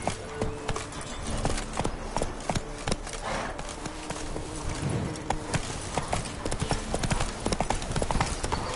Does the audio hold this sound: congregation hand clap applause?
no